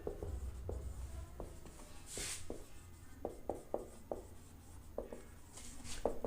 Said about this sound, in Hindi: हम क्वेश्चन लिखते हैं,